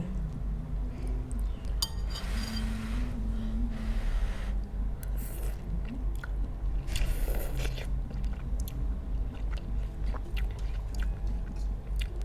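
Someone eats chewy Korean spicy instant noodles, with close bites, wet chewing and slurps, plus occasional clinks and scrapes of utensils against a bowl, and no talking.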